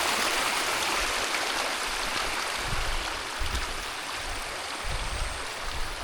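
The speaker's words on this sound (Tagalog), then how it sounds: "Lakas talaga ng tubig oh." Strong river current rushing loudly and continuously, a dense broad roar of flowing water close by with low gurgles underneath.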